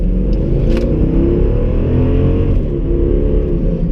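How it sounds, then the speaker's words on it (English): A car engine roars steadily as it accelerates, a loud close rumble with no talking. "I want you to listen to the sound of this motor."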